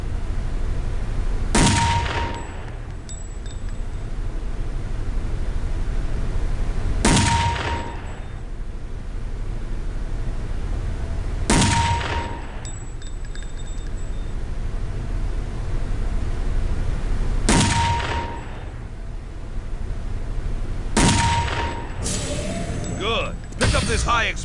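Five heavy sniper rifle shots fire at a training firing station in Counter-Strike Condition Zero, each a sharp, booming report spaced a few seconds apart over a steady background hiss, with mechanical rattles near the end.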